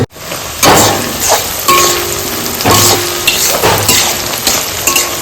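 Onions frying in mustard oil in a pan: a loud, steady sizzle and hiss, broken by repeated scraping stirs and light metallic clinks of a spoon against the cookware.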